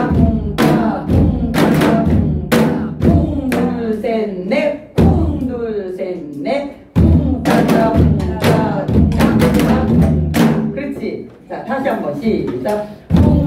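A Korean janggu hourglass drum is played in a trot song rhythm for a song, a steady run of loud, close booming and slapping strokes with brief pauses between phrases.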